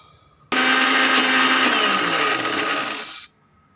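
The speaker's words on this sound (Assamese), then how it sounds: "এতিয়া মই মিক্সাৰটোত মিক্সিং কৰি ল'ম" A mixer grinder whirs loud and steady for about three seconds, blending pointed gourd, garlic, ginger, green chilli, onion, salt and mustard oil for an Assamese-style patol chutney, starting and stopping abruptly.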